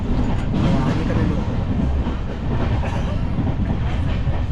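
Deccan Queen Express 12124 rolling along the rails, a loud, steady rumble with rhythmic wheel clatter close by from start to finish.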